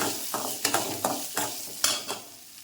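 Small onions sautéing in a pan, with a steady sizzle and a run of stirring scrapes in a regular rhythm, several strokes in quick succession, close and moderately loud, no voices.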